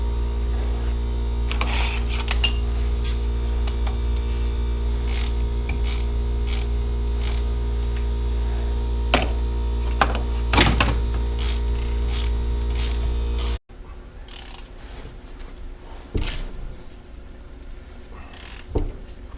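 A strut spring compressor being tightened down on a 2006 Acura gives a steady mechanical ratcheting and clicking over a constant low hum, with a few sharper clacks and a brief cut near the end.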